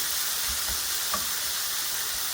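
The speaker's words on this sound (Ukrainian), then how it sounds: "Обсмажуємо м'ясо хвилиночок 7, не відходячи від нього помішуємо" Steady sizzling of chicken frying in a pan, with soft scraping and clinks of stirring now and then over a constant hiss.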